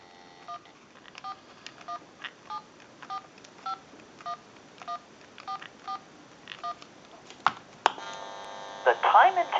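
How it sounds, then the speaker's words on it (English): A General Electric cordless telephone dials out, giving about a dozen evenly spaced two-tone DTMF keypad beeps, clear and steady over faint line hiss, before a click and the answering line's tones come through. "And we'll make that call."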